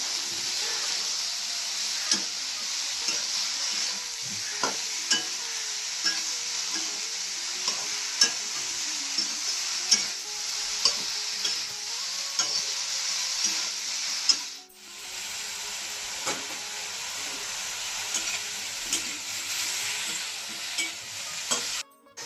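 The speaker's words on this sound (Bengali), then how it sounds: "এখন ভালো করে নাড়িয়ে দিয়ে ভেজে নিচ্ছি" Broccoli frying in a pan with salt and a little turmeric, stirred steadily: a continuous close sizzle with repeated scraping strokes of the spoon, and a brief dip partway through.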